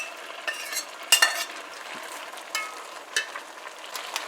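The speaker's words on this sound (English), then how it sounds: "So in goes our chopped seasonings, our scallions, celery," Chopped scallions, celery, onion and pepper fry in a pot as they are stirred. A steady close sizzle runs underneath scattered scraping and clinking strokes, with no voices.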